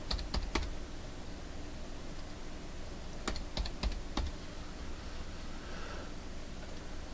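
Clicking on a computer keyboard to enter a password, a few faint clusters of key taps over a steady background hiss.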